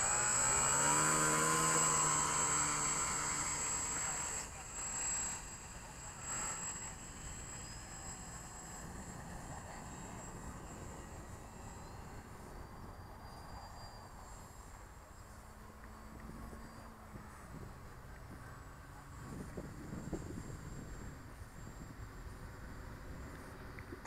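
A Dynam 1270mm Tiger Moth RC model biplane with forward-raked landing gear flies in strong wind, its propeller drone shifting in pitch as it passes. The engine is loudest at first, then fainter and more distant, with wind noise throughout.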